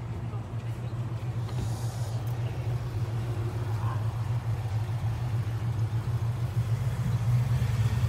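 A 1958 classic car rolls through a Cars and Coffee show, its low engine rumble steady and fairly close, building slightly as it passes amid outdoor crowd murmur.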